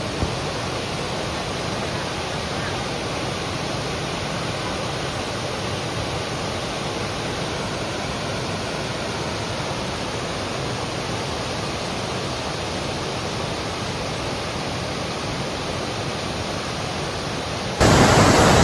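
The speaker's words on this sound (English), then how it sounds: "The waterfalls just keep popping out of nature here." A steady, loud rush of a waterfall on a Tennessee hiking trail roars as dense, unbroken white noise throughout, with a slight jump in intensity near the end.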